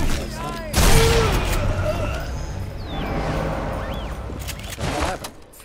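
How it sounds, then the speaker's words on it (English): Gunfire in the video game Sniper Elite 4: a loud burst of shots near the start, another blast near the end, and sporadic game sound effects in between. "So I'm just gonna shoot them."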